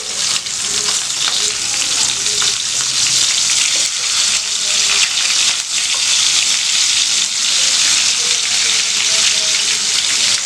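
Sardines sizzle in hot oil in a home kitchen pan, a loud steady crackling spatter that runs unbroken throughout.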